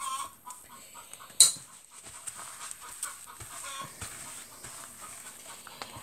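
A hen cackles after laying an egg, in repeated short bursts, fairly faint and somewhat distant, with one sharper squawk near the start.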